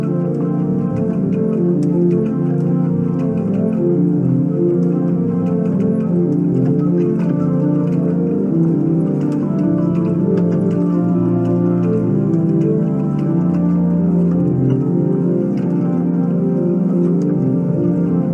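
A pipe organ sounds with 16- and 8-foot flutes plus a 16-foot principal, playing sustained, full chords with a deep bass foundation, moderately loud and steady throughout with no talking.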